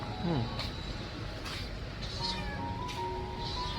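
A local Bengali cat meows a few times, short rising and falling cries spaced apart, over a low background rumble.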